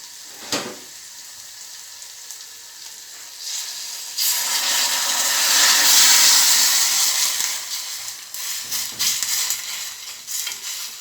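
Spicy scotch bonnet pepper sauce sizzles on the fire, a bright hissing sizzle that surges loudly when water is added and then settles, with stirring scrapes in a pot, close up and without talk.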